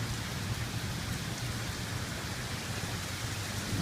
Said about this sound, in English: There comes the rain again.